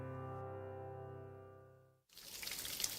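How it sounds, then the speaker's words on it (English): Waterfall sound effect in a radio ad, heard as a sudden burst of steady rushing water that takes over after a sustained musical tone fades to silence. "this is the sound of a waterfall in nature"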